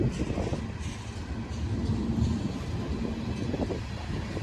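A train rolls past Lake Avenue in Blasdell, New York, with a steady low rumble and faint wheel squeal, heard nearby at a slow, even pace and with no talk.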